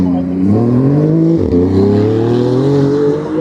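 A McLaren at the Kop Hill hillclimb holds a loud, steady engine drone that rises slightly in pitch as it pulls away, close by and continuous, with a voice talking over it.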